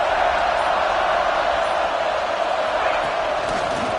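A dense, steady roar of a video game football stadium crowd at the start of the fourth quarter in College Football 26, loud and unbroken, with a commentator's voice running over it.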